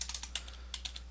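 Typing on a computer keyboard, a short run of quick light key taps at close range over a low hum, no talk.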